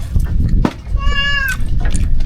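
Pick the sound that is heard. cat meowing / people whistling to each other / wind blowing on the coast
cat meowing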